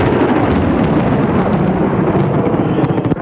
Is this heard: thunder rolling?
yes